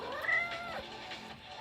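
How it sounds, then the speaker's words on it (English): A house cat lets out a loud, drawn-out yowling meow that screams close by in one continuous wail, with no voices over it. "Poor Padme, she's just screaming."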